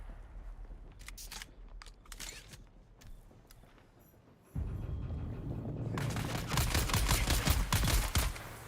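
Gunfire from a player shooting in the video game Project Zomboid, heard as rapid sharp bursts, then a sustained loud, dense stretch of continuous shooting and noise.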